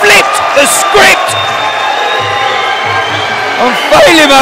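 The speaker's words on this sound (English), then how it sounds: "The crowd goes absolutely wild." A crowd roars and whoops wildly at a Combat League Muay Thai fight, loud and close, while a voice talks over the cheering throughout.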